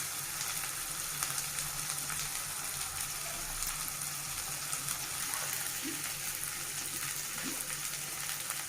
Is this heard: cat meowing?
no